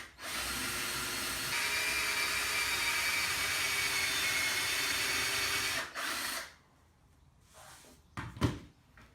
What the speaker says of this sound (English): And we're going to drill through at a slight angle.